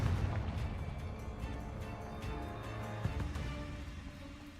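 A Confringo spell explodes in Hogwarts Legacy, a loud, low rumbling blast that rolls on for several seconds with a sharper crack partway through.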